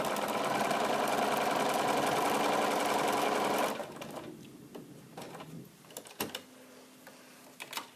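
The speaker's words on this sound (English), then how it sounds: "just sew a little sample 3 or 4 inches long" A sewing machine runs a steady, fast whir while stitching a short sample seam on quilting fabric, then stops halfway through, leaving a few soft clicks and handling sounds.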